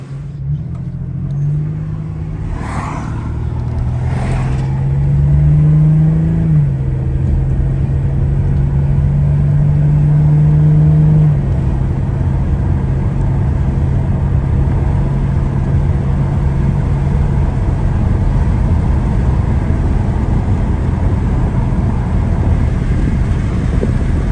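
A 1995–2011 Ford Ranger with a 4R44E/5R44E automatic transmission, just given a fluid and filter service, drives a road test: a loud, continuous engine and road rumble with wind buffeting, and engine pitch rising and shifting early on.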